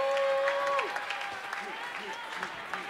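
Audience applause for death metal contest contestants at a live quiz event, a steady broad clatter of many hands running through the whole stretch, with a sustained tone and voices mixed in underneath.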